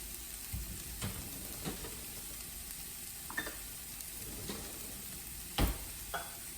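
Soupy beans being reheated in a pan, with a spoon stirring them through a steady sizzle and a few louder scrapes and clicks along the way, heard close up with no talking.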